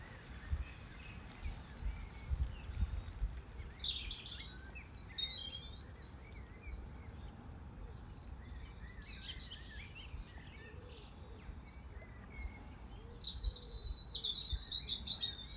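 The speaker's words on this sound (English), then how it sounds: "blackbird." A common blackbird sings near a fishery in Wakefield, with several bright, fluting phrases rising out of a steady outdoor rumble, fairly distant, separated by pauses and mixed with other small chirps.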